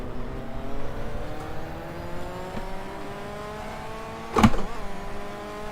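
A race car engine in the GTR 2 racing game on the Twin Ring Motegi circuit hums with rising revs, followed by a sharp gear-shift bang near the end and continued engine drone.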